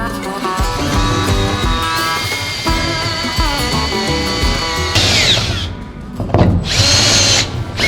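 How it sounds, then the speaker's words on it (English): A step drill bit bores holes through a wedge camper's roof for a solar panel install, a power drill whining in steady, loud bursts with pitch shifts as the bit steps up, then brief pauses and restarts. "Now I'm using a step bit for this because one, it helps to deburr as I'm drilling."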